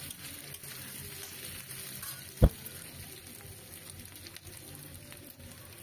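Capsicum and onion fry in a pan with a constant low sizzle and occasional stirring scrapes, plus one sharp metallic clank partway through.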